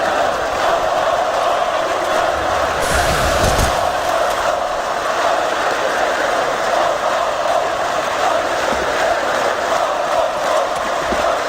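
A large arena crowd at a Counter-Strike: Global Offensive tournament in Krakow roars steadily, a loud dense wash of cheering that swells briefly and stays constant, with no clear talk over it.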